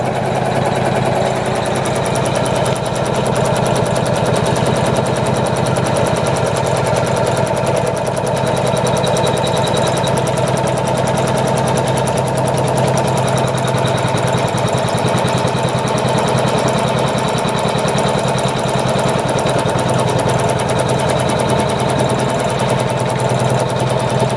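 An embroidery machine stitches an in-the-hoop design, humming steadily with a fine, rapid needle pulse that runs loud and unbroken throughout.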